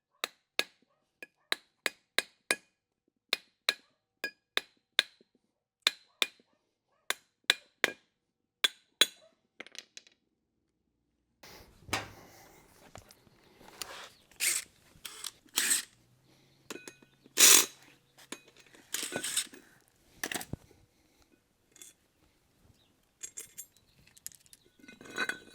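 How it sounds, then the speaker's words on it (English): A hammer taps on screws to free the ring gear from a 1971 Satellite rear end: a steady run of sharp, evenly spaced metallic taps, then a looser flurry of knocks and clinks nearby. "I ran the screws in slightly, and I'm going to just tap on those."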